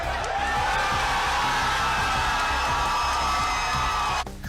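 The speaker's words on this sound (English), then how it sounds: "clapping and screaming and shouting like this" Dense, loud crowd roar of cheering, screaming and shouting with clapping, sustained and continuous before cutting off near the end.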